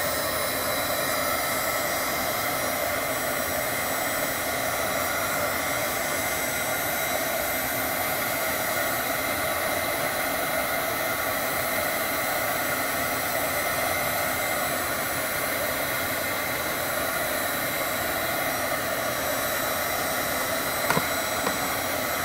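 A hairdryer runs steadily on high while heating embossing powder, a constant close airy roar with a whining hum, unbroken for over twenty seconds.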